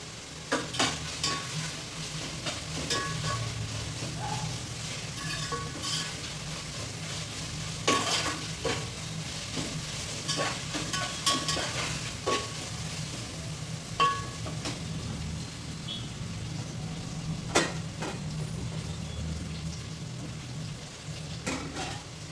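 Potatoes and mint frying in a pan at home, a soft steady crackle like light rain with scattered stirring taps over a long stretch, fairly quiet and with no voices.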